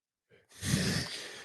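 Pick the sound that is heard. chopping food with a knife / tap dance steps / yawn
yawn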